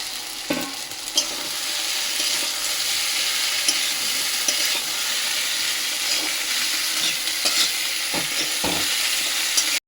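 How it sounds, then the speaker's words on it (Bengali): Cauliflower and potatoes sizzle loudly in spice paste in a pan, with a steady close frying hiss and occasional scraping knocks from a stirring spoon. "এবারে মশলাটা ভালো করে আলু কপির সাথে কষানো হয়ে গেছে।"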